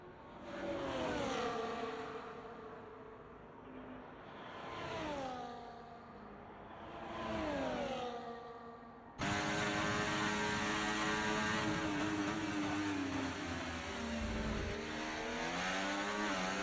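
Open-wheel race cars roar through a hot lap on the Las Vegas circuit in a racing sim league, engines rising and falling through gear shifts, then a second car's engine cuts in loud and close.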